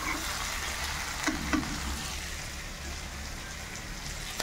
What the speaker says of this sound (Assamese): পিঁয়াজ চব ফ্ৰাই হৈ গ'ল